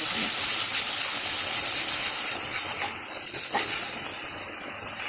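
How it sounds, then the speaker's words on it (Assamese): Salt, turmeric and ground cumin fry in oil in a pan for a soyabean curry. A steady close sizzle and hiss runs throughout, with a faint clink midway, then eases slightly. "মই মছলাখিনি ভালকৈ ভাজি ল'ম।"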